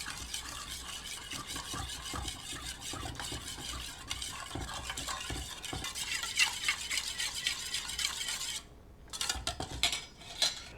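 Olive oil being stirred into a dressing for a grilled watermelon, feta and cucumber summer salad, a steady run of close utensil scraping and clinking against a bowl, briefly pausing near the end, with no talk.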